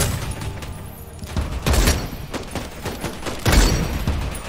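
Rapid gunfire crackles through a vampire battle royale shooter, with dense volleys of close shots and heavy booming impacts arriving in several bursts, loud and continuous.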